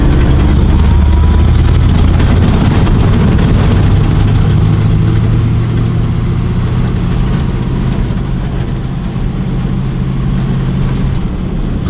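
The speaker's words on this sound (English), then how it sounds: "So I'm driving on the dirt road this time instead of taking the regular road to Caleb's house" Modded Mopar 361 V8 car on a dirt road, a loud continuous low engine rumble with road noise heard from inside, steady throughout and without talk.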